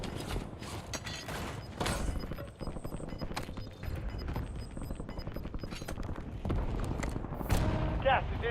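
Rapid bursts of video game gunfire with mechanical clatter, dense and loud throughout, overlapping with spoken game callouts and radio-style voices.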